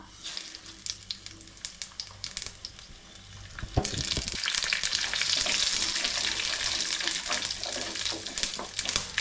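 Mustard seeds, fenugreek and cumin dropped into hot oil for a tamarind okra curry begin crackling and sizzling, a sudden close burst that settles into a steady loud fizz with scattered pops after earlier faint clicks.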